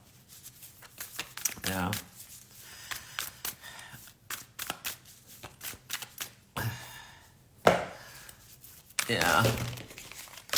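Quick riffling bursts of a Light Seers Tarot deck being shuffled come in several rounds, with papery flicks between them and a voice speaking briefly nearby.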